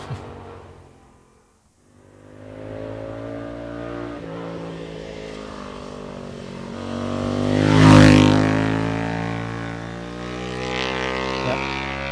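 A small Ducati motorcycle's exhaust revs and accelerates, rising in pitch to a loud peak as it passes close by, then fading and settling into a steady drone, with no voices.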